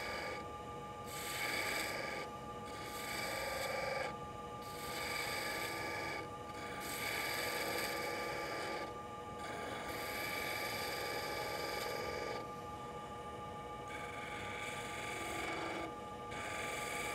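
A skew chisel cuts a wooden bottle-shaped bottle opener spinning on a lathe, giving a steady rasping hiss in long passes of a few seconds each, broken by brief pauses, with the lathe's hum running underneath.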